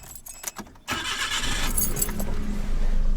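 A Suzuki Jimny JA22W engine cranks and catches, then settles into a steady idle; a brief jangle of keys comes just before the start.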